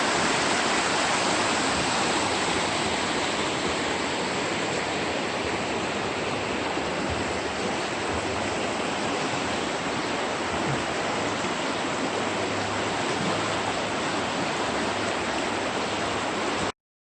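Setrock Creek Falls in the Black Mountains of Pisgah National Forest, North Carolina, sends up a steady, close, full-bodied roar of falling water that runs unbroken for the whole stretch, with no voices.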